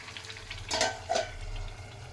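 Bean and squash curry sautéing in a pan, a steady soft sizzle and stirring with a couple of brief louder scrapes near the middle.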